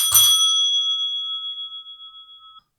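A school bell in a classroom gives one sharp metallic strike near the start, then a bright tone rings on alone and fades steadily over about two and a half seconds.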